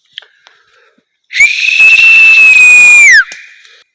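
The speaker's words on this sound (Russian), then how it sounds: "они уже на свист идут" A loud, sustained human whistle, one long steady tone of about two seconds, calls dogs in a snowy forest, preceded by faint clicks and followed by quieter rustling.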